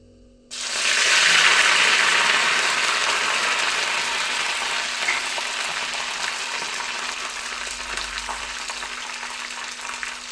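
Dried red chillies dropped into hot coconut oil with fenugreek seeds and curry leaves, tempering for a colocasia and buttermilk curry: a loud sizzle bursts in abruptly, then a steady hiss and crackle that slowly eases off.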